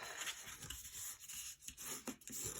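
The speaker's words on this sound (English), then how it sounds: "the long score lines, I do really want to burnish well with my bone folder" A bone folder burnishes long score lines on paper for a treat box, giving soft, close, faint rubbing and scraping strokes in an irregular back-and-forth rhythm with no voice.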